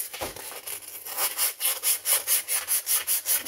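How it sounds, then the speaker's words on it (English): Rhythmic back-and-forth rasping of 120 or 150 grit sandpaper rubbed over heavily oxidized plastic on a vintage chainsaw, close and steady with regular strokes building after a brief pause, no talking. "Sand on this over here."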